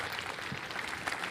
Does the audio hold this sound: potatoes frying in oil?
no